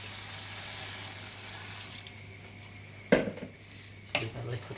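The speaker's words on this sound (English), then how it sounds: "And we're going to add our vegetable stock." Vegetable stock pours into a pot of leek, potato and sweet potato soup with a steady, soft liquid hiss, broken by two brief louder clanks or splashes near the end.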